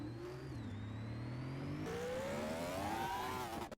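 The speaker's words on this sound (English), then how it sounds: "We can drive the Batmobile." A 1000-horsepower Batmobile driven in the video game Car Mechanic Simulator gives off a loud, steady engine whir. Its pitch dips briefly, then climbs gradually before cutting off abruptly at the end.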